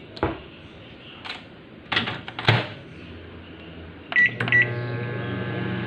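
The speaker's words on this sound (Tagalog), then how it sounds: "initin natin yung ating kape dito sa microwave" A microwave oven reheating a cup of coffee gives a few button beeps and clicks, then settles into a steady close hum with a faint tonal whine.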